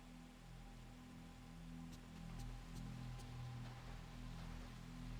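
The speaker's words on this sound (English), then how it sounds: "It's raining again." Rain falls steadily in the horror video game Fatal Frame 3, a soft continuous hiss over a low droning ambient hum, with a few faint ticks and no talking.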